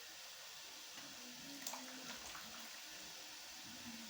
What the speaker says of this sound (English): So I'll add another water to it.